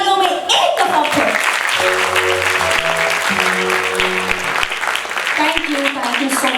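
Loud sustained applause from an audience at a quiz competition, dense clapping filling the room, with a voice and musical tones sounding underneath.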